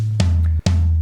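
Toms on a drum kit, two deep booming strikes about half a second apart, each followed by a long low ringing resonance, close and loud.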